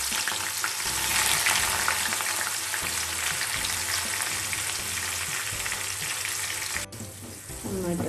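Chopped garlic and ginger frying in hot oil with popped mustard seeds for a Kerala-style mango pickle, a steady close broadband sizzle with stirring, briefly dipping near the end before resuming.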